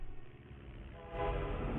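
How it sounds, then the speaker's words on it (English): Military train in archival documentary footage: a faint, muffled low rumble of rolling wagons, swelling with a horn-like tone toward the end, lo-fi and distant. "A military train."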